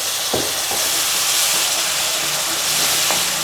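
Ground tomato puree hits hot oil in a pan, giving a loud, dense, hissing sizzle that stays constant throughout, with a few faint clinks underneath and no speech.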